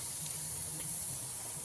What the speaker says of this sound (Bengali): ব্যাটার নিয়ে দিয়ে দেবো কড়াইয়ের মধ্যে